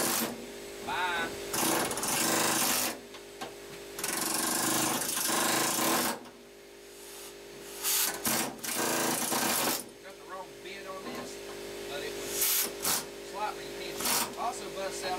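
Loud pneumatic chattering from a power tool with a pointer bit chiseling old hard seam sealer off a rusty Ford F150 cab floor, coming in bursts of several seconds with short pauses between them.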